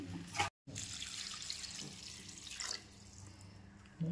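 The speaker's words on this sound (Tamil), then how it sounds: "பார்த்து 1 லிட்டர் தண்ணி ஊற்றிக்கலாம்." A steady stream of water pours and splashes into a cooking pot, close by, with a brief gap near the start and no talking.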